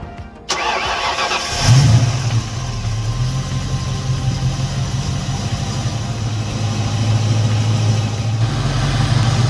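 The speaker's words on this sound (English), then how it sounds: "I'll fire the car up." A Ford Fox body Mustang engine cranks briefly, catches with a loud burst, then settles into a steady, slightly lumpy idle that continues close and loud to the end, with no talking, during an ignition timing check.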